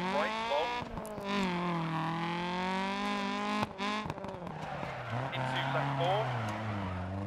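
Rally car engine from the DiRT Rally video game, revving steadily with shifting pitch as the car is driven hard through corners, loud and continuous under someone talking in German.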